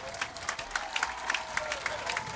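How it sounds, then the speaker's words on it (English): A Mandeville high school football crowd rises to its feet, clapping in appreciation of the defense, dense steady applause with scattered claps standing out at moderate distance. "this Mandeville crowd, which has been loud and encouraging, rises to its feet in appreciation of the Skipper's defense"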